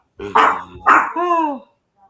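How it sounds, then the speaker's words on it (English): A dog barks indoors nearby: two sharp, loud barks followed by a drawn-out whining yelp, then quiet. "My dog is barking."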